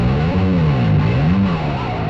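A stock bass fuzz preset on a Neural DSP Nano Cortex, with a bass played through it, gives a thick, crunchy, heavily distorted tone that wavers in pitch and sustains loud and continuous.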